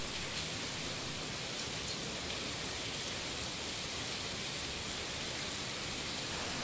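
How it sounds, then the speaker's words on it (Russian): Steady, soft hiss of light rain falling continuously, even and faint, with no voices. "жара спала и пошел дождик."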